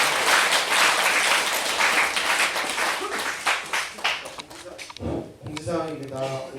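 Audience applause at a Buddhist dharma talk in a temple gathering, dense clapping filling the room for several seconds before thinning out as a voice begins speaking near the end.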